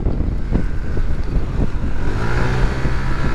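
A Honda PCX 160 scooter engine revs up and down close by, throttle blipped several times over a rough idling drone with some wind buffeting.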